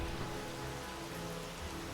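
Heavy rain pours in an unbroken, close, even hiss, rendered by the Vivid Weathers weather mod in the Skyrim video game.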